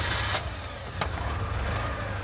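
A 1960s Citroen Mehari engine cranks and catches, settling into a steady mid-pitched idle with a couple of sharp clunks, recorded close and with no talking.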